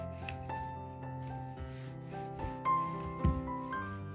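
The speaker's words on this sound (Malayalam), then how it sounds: "ഇനി ഇതൊന്ന് പരത്തിയെടുക്കാം." Wheat dough for chapati is rolled out flat, giving a faint, soft rubbing and scraping against a steady musical background.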